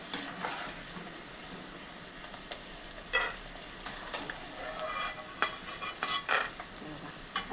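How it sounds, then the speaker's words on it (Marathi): Peanuts fry in hot oil for makka poha chivda, a soft continuous sizzle broken by scraping stirs and light utensil clinks against the pan. "असे तळले गेले पाहिजे शेंगदाणे"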